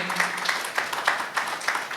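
An audience claps as a shield is presented at a media team's anniversary event in Pakistan, a steady mid-distance patter of many hands with a faint voice underneath.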